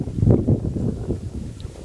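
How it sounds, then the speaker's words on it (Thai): Strong gusty wind buffets the microphone outdoors in a garden of planted trees, a loud low rumbling roar that rises and falls steadily, with no speech. "ลมเนี่ยจังหน่อยเนาะ"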